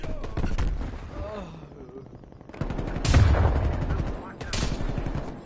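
Bursts of automatic gunfire ring out in Call of Duty: Black Ops Cold War on PlayStation 5, loud rapid volleys around the middle and end separated by a quieter stretch, with a player talking in between.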